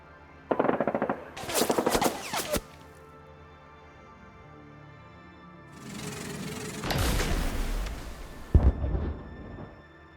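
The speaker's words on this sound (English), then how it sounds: "firing their SMG and heavy Tesla rifle at them" Bursts of rapid automatic gunfire from an SMG and a heavy Tesla rifle, as sound effects for a Konflikt '47 tabletop wargame battle: two short loud rattling volleys, then a longer rumbling barrage with booms and a final sharp burst.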